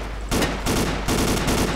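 Gunfire in the video game Ace of Spades comes as rapid repeated bursts of shots, loud and close, in two or three quick volleys.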